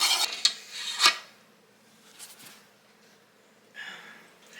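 A pot of boiling fudge is lifted off the stove: two sharp metallic clanks and scrapes come close together at the start, followed by quieter rustling and a softer clatter near the end.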